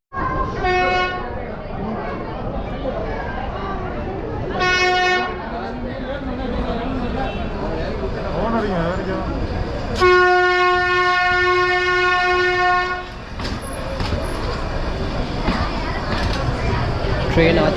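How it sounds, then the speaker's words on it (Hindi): The Nilgiri toy train on the Ooty–Coonoor line arrives at a station, sounding its horn in several long tonal blasts over rolling rail noise, while people talk throughout. "ट्रेन आ चुकी है और हम लोग ट्रेन को बोर्ड भी कर चुके हैं।"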